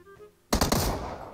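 After a quiet moment, a sudden burst of gunfire erupts in PUBG Mobile, a few sharp close shots in quick succession followed by a ringing, decaying tail.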